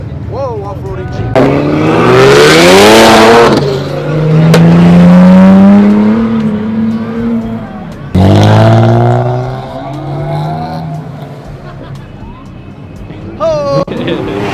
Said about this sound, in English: Whoa, off-roading Jeep.